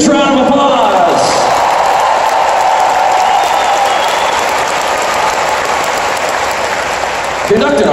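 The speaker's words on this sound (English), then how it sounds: "Give them a huge round of applause" Loud, sustained applause from a concert audience at a show in Cincinnati, a dense wash of clapping and crowd noise that fills the whole stretch, with some voices mixed in.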